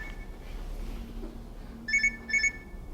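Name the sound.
phone alarm going off despite airplane mode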